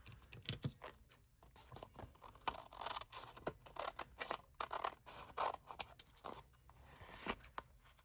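Scissors snip through paper being trimmed for a collage, a quiet series of crisp, irregular cuts and small rustles close by, with no talking.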